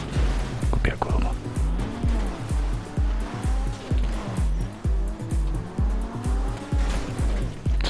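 Car tires squealing repeatedly in GTA V Online, a loud continuous screech with revving engine over a rhythmic thumping backdrop, dense and close throughout.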